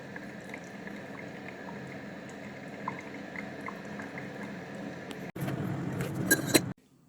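A Keurig K-Duo Essentials coffee maker brews a full pot of coffee with a steady, low hiss and gurgle. Near the end it swells into a louder sputtering burst, then stops abruptly.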